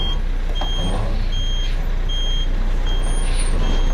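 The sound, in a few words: truck reversing with reversing beeps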